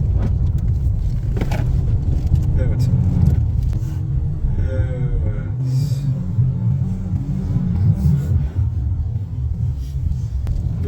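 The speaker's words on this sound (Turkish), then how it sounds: "Evet bozuk yolda gidiyoruz. Konforsuzluk yok, ses var." Low, continuous road rumble from inside a moving post-2020 Peugeot 2008 on a rough, broken road, with faint rattles and thumps from the uneven surface and a voice speaking briefly.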